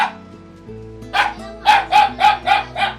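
A dog barks six times in a quick, evenly spaced series of loud, sharp barks near a house doorway, with a steady low hum running underneath.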